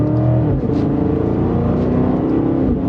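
A 2025 BMW X5 M60i engine pulls hard under acceleration, a loud, continuous rising drone with climbing harmonics that swell and shift steadily, close and alone without talk.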